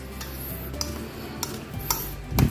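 Pork belly turning in a bowl of marinade with calamansi juice, black pepper and oyster sauce, giving a soft, steady wet stirring with a few light clinks and a heavier knock near the end.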